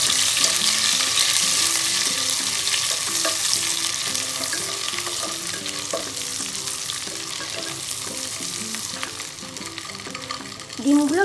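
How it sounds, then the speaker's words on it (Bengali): Eggs frying in hot oil, a steady bright sizzle running throughout with faint stirring clinks, fairly loud and close, no talk. "তেল গরম হয়ে গেছে, এবার আমি ডিমগুলো ভেজে নেব"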